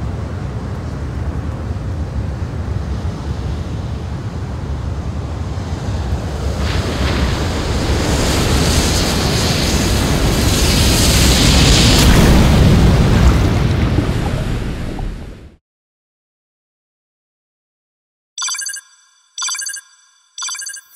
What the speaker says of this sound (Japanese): 津波が来たぞ。